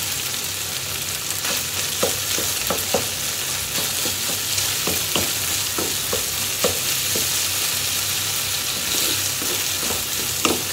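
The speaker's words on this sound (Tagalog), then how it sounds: "Ilagay na natin yung ating tomato sauce." Tomato sauce sizzles and spits in a hot pan while Filipino-style cheesy baked macaroni is cooked, a steady loud hiss with frequent small pops and stirring clicks throughout, and no voices.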